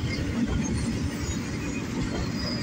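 A southbound CSX doublestack freight train rolls past close by, a steady loud rumble of wheels and cars on the rails with no horn in this stretch.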